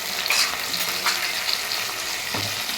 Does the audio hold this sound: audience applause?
no